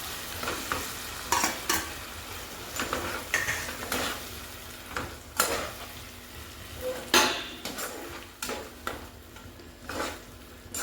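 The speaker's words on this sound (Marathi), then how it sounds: "सगळं मिक्स करून घेते" Tomato and spice paste stirred and mixed in a pan with a spoon, giving repeated scraping clinks against the metal over a soft, steady frying sizzle.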